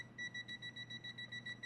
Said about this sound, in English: the buzzer will continuously beep